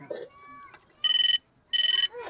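A phone rings twice in quick warbling bursts, each trill a rapid series of electronic pulses, with faint background voices and noise around them.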